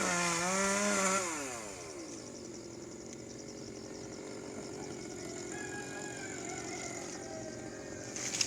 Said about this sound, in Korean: 지금 나무 밑동을 지금 쓰러지는 쪽 밑동을 지금 썰고 있습니다